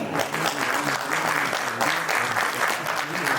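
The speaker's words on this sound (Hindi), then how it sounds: "तो जोरदार तालियां सुजीता के लिए" Loud, dense applause from an audience welcoming a female singer onto a stage, a steady wash of many hands clapping throughout, with faint voices mixed in beneath it.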